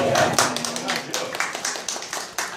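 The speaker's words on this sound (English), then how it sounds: "But, very good work from Jill, I think a round of applause" A small group applauds at the donkey wheel well of Carisbrooke Castle: a short burst of uneven, moderately close clapping mixed with people talking over it.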